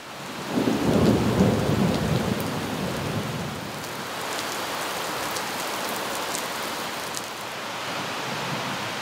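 A low thunder rumble rolls early on, then steady heavy rain hisses continuously on surfaces, close and loud.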